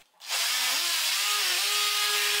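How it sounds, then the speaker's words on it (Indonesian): Black+Decker Multi Evo cordless oscillating sander working rough, blue-stained teak or pine wood, starting up abruptly and holding a steady, loud, close buzzing hum. "Next, kita langsung ke fungsi oskilasi amplas."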